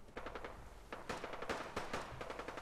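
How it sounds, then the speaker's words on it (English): Rapid bursts of gunfire crackle at a moderate distance in the video game Fallout 4, with irregular volleys of sharp shots overlapping, some louder and closer than others, over faint background noise. "The ambient sounds of gunshots going off."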